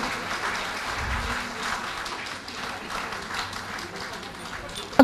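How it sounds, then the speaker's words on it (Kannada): A crowd applauds at a women's association anniversary celebration, a steady, continuous wash of clapping held for several seconds with a few voices mixed in. "ದಯವಿಟ್ಟು ಎಲ್ಲರೂ ಚಪ್ಪಾಳೆ ಹಾಕಿ ಪ್ರೋತ್ಸಾಹಿಸಿ"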